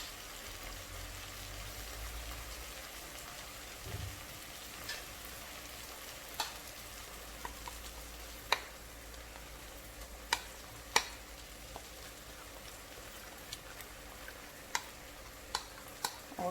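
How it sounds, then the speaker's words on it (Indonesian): Curry spice paste being stirred with plain water in a pot, a quiet low scraping and swirling with scattered sharp ticks of the spoon against the pot, fairly faint and steady with no talk. "Kita aduk-aduk dulu, kita cairin."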